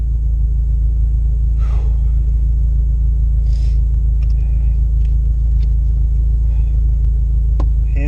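Toyota MR2 SW20 turbo on an autocross run, heard as a steady loud low engine rumble with road and wind noise that holds constant throughout.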